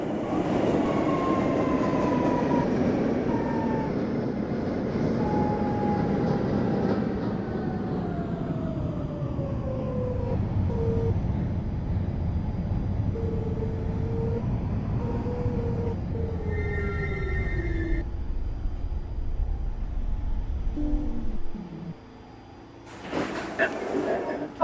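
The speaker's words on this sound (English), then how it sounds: "This is a 78th Street, Waterside Boulevard bound shuttle train." A shuttle train bound for 78th Street and Waterside Boulevard rumbles steadily with a loud, close roar and a slowly falling tonal whine, then the noise drops away near the end as a brief hiss sounds.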